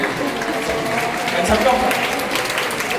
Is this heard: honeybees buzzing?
no